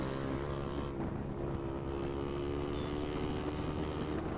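Bajaj Pulsar 125 motorcycle ridden flat out, a steady droning engine roar mixed with heavy wind rush, continuous and close throughout.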